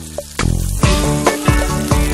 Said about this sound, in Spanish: En un sartén a fuego medio, fundir una cucharadita de margarina Primavera Cocina sin sal.